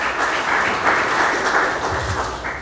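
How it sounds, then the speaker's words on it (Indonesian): Church congregation applauding during a Christmas sermon, a sustained, dense wash of many hands clapping at steady volume, slightly easing toward the end, with no voices over it. "Kasih tepuk tangan untuk Tuhan Yesus"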